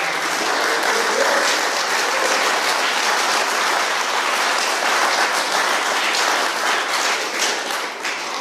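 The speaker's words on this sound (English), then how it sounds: "one more round of applause" An audience claps loudly for a performer, a dense, sustained wall of applause with no voices over it, holding steady to the end.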